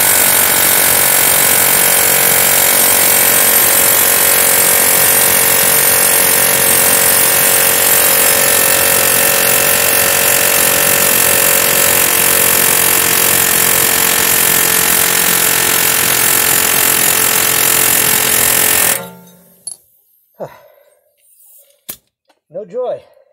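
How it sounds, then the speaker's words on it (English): Loud, continuous pneumatic hammering rattles for nearly twenty seconds as it drives a rusty, stuck rear axle out of a BMW E61, then cuts off abruptly, followed by a few scattered metallic knocks. "try to use my pneumatic drill to drive the axle the rest of the way out"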